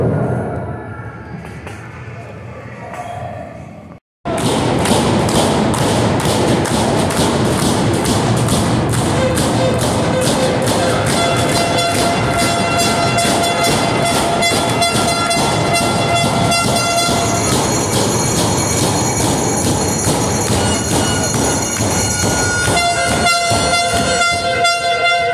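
A wrestling event crowd gives a minute of applause in tribute to Antonio Inoki; dense, continuous clapping fills the space after a short lull, steady and loud with rhythmic chanting and thumps rising underneath.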